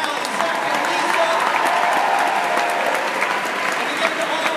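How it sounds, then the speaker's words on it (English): A crowd breaks into loud sustained applause at an evening charity event, dense clapping that holds for several seconds with faint voices mixed in. "Let's give another round of applause for John,"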